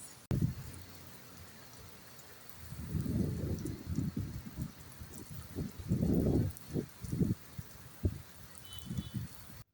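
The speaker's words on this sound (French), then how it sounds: "C'est tellement relaxant d'entendre en fait le son de la pluie et de voir les gouttes de pluie tomber au sol." Rain falling on the ground at night, a steady soft hiss of drops under a loud irregular series of low honking calls like geese, close and continuous with no talking.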